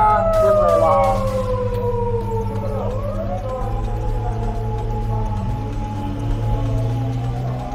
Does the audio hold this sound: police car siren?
yes